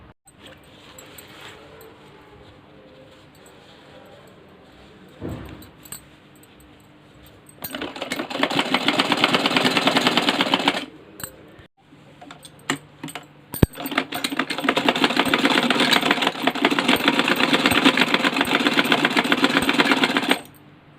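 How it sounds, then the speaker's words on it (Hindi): Bursts of old-jeans handle strap stitching on a sewing machine, two long stretches of steady, dense motor whirr separated by a brief pause, with quieter handling clicks before the first run. "यहाँ पर हम सिलाई लगाते जाएंगे।"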